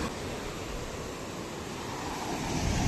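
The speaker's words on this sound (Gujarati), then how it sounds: "હમણાં મોટી વેળ આવે ને ત્યાં જોજો તમે" Sea waves break on a shore with a faint, broad wash of surf, low in level, mixed with wind rumbling on the microphone and swelling slightly toward the end.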